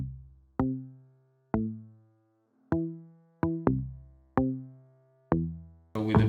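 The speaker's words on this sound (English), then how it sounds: "I have this kind of bass guitar that I made with Reactor, with the Prism from Reactor" A synth bass built with the Reaktor Prism instrument plays sparse, plucked notes, each with a sharp attack and slow decay, about seven notes spaced irregularly, then a brief burst of noise at the end.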